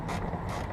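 A 10mm socket on a ratchet loosens a bolt during car interior disassembly, giving a steady, close mechanical clicking and creaking that runs unbroken through the short moment with no talk.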